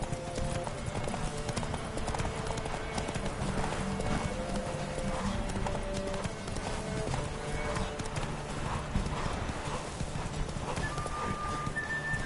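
Roach the horse galloping in The Witcher 3, a steady, fast clip-clop of hooves running continuously with a brief whinny and faint game music layered underneath.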